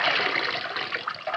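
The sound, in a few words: hosing water off a Mylar-insulated motor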